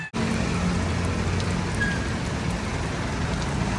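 Steady rain pouring outdoors beside a highway in Bani, Pangasinan, a constant dense hiss of drops on surfaces after a brief cut at the start, with no talk.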